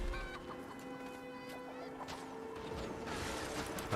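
Chickens cluck and squawk in Guild Wars 2, several short clucks scattered over a steady windy in-game background, fairly faint and without talk.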